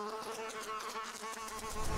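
A fly buzzes close by with a steady, wavering drone for about two seconds, heard alone without talking.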